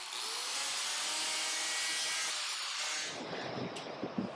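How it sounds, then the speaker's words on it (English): Hand tool cutting a caulking bevel into a wooden lobster boat's bow plank, a steady close scraping rasp of blade on wood lasting about three seconds, then fading into softer scattered scuffs and taps. "So we're just putting a little caulking bevel on the very front"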